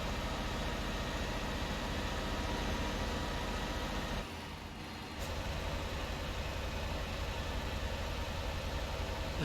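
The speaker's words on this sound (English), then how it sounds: "This engine sounds different now." A truck engine idles in Euro Truck Simulator 2, a loud, constant low drone that briefly dips and falls quieter near the middle before resuming at full level.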